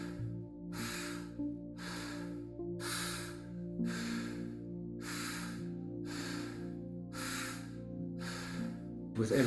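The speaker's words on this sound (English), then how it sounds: "So now you can just keep the breathing strong." Strong rhythmic breathing during a guided pranayama-style breathing exercise, nine forceful breaths at an even pace, each a rushing whoosh, set over a steady sustained musical drone.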